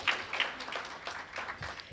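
An audience applauds as State Representative Ryan Ottman is introduced at a bipartisan teachers' panel: a brief, moderately loud burst of clapping that stays fairly even throughout.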